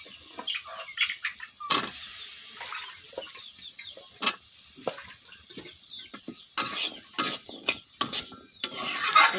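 Papaya pieces are tossed into a sizzling catfish curry and stirred in the pan, with a steady fry hiss broken by irregular scraping and clattering stirs.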